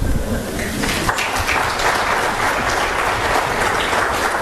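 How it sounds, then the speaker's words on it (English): Dense, sustained audience applause at a university budget town hall, many hands clapping loudly and evenly throughout with no break. "Y'all give Dean Licker a round of applause"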